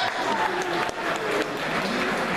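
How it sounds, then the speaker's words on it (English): Audience applause at a magic show, a dense, steady wash of many hands clapping close by, continuous for the whole stretch with no voices over it. "Give a big round of applause,"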